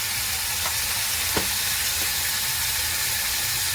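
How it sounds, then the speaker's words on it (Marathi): Turmeric, salt, coriander and black pepper powders sauté in hot oil for an Indian-style chicken soup, giving a steady soft sizzle with a faint stir or two and no talking. "हे आपण चांगलं तेलावर परतून घेऊया"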